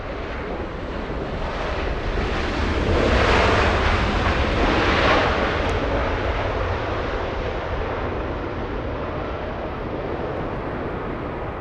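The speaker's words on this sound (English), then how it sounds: "Turkish 179 flying in from Istanbul." Turkish Airlines flight 179 from Istanbul arriving at Los Angeles International Airport, a broad jet roar that swells near the middle and slowly fades, heard from a distance with wind noise.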